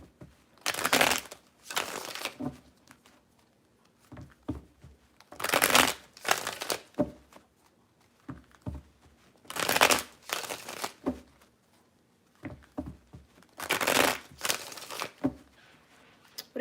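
Tarot cards shuffle in four distinct bursts of crisp riffling, spaced a few seconds apart, close and moderately loud, with quiet gaps between.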